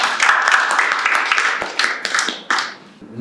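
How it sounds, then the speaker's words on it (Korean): Audience at a district council policy meeting in Gwangju gives a round of applause to open the session, dense clapping lasting about two and a half seconds before fading. "일단 재밌게 잘해보자는 의미로 박수 한번 치고 시작하겠습니다"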